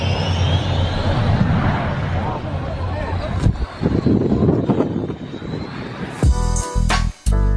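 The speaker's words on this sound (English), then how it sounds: "a fighter jet was taking off right next to them" A fighter jet taking off close by, a loud roaring engine rush that swells and fades over several seconds, followed by abrupt choppy bursts near the end.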